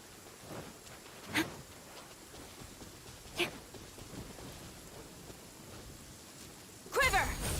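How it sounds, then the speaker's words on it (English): Continuous rain in a video game, with a few sharp cracks of thunder standing out at intervals and a louder rumbling burst near the end, a voice talking faintly at times beneath the storm. "The sound of rain masks the enemy's footsteps."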